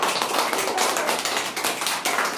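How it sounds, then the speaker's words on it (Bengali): Students in a classroom clap together loudly, a dense, steady patter of many hands that runs throughout with no pauses. "সবাই হাততালি জোরে।"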